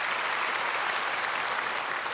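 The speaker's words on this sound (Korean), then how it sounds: "우리 크게 박수로 환영하겠습니다." A church congregation at a Sunday worship service applauds steadily to welcome newcomers, a dense, even wash of clapping from many hands throughout.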